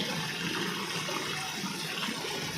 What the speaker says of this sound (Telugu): చూడండి నీళ్ళు ఎలా వెళ్తున్నాయో